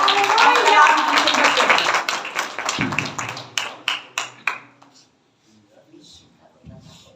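A church congregation at a Sunday service claps loudly at first, then the applause thins into a few scattered, sharp claps before fading to near silence, with a voice speaking briefly at the end.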